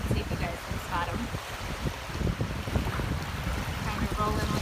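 Ocean waves wash over a shell beach, giving a close, rough, continuous wash and fizz of water with scattered clicks and tumbling, carrying mild wind noise throughout.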